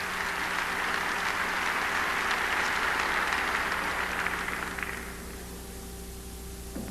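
A crowd in a gymnastics arena at the 1987 DTB Cup applauds a men's floor routine, dense steady clapping that fades down to a low murmur near the end, with no talk.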